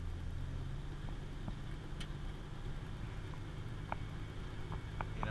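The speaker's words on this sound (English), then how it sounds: "Just give it kind of just a medium throttle." A small carbureted car climbing a short on-ramp hill at medium throttle, a steady low engine drone heard from inside the cabin with faint clicks and rattles over it, no talking.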